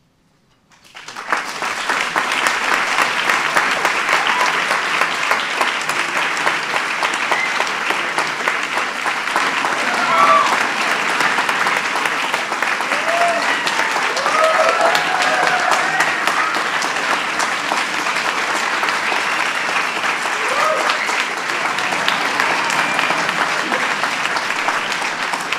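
A large audience applauds at a Presidential Medal of Freedom ceremony. The clapping is thunderous and sustained, swelling in quickly and holding steady for the whole stretch.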